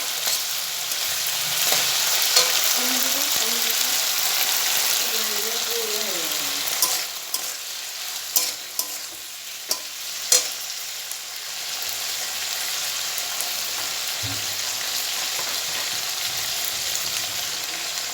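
Chili cauliflower frying in a pan with spices, a continuous close sizzle and hiss broken by scraping stirs and light clinks of the spoon against the pan, with faint background voices.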